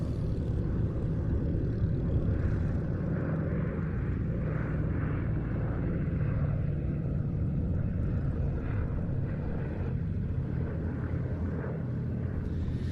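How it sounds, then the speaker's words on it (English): A Yak 18T leads two Yak 52s in formation at Duxford, their piston engines making a steady droning roar that holds for the whole stretch, far off but constant. "The 3 yaks of the Flying Comrades."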